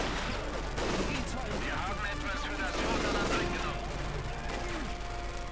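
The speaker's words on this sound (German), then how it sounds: "Der Ivan schießt auf uns!" Gunfire aimed at the player's units in the Company of Heroes 2 strategy game: dense, continuous battle noise with scattered shots and bursts, held under steady mixed background sound.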